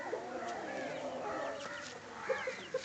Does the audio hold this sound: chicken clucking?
yes